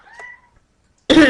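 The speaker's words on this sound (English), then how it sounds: "Sorry, that was my cat." A house cat gives a single short, clear meow nearby indoors, followed after a brief silence by a sudden loud burst of noise.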